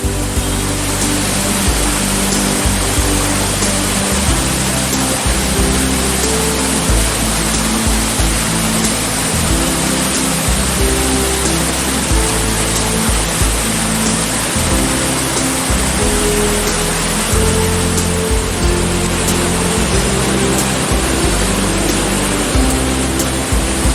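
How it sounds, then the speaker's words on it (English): A powerful Welsh waterfall pours in an endless torrent, its roar dense and steady from start to finish, with deep churning rumble beneath a constant wash of spray and no voices. "when you hear the enchanting sound of its endless torrent"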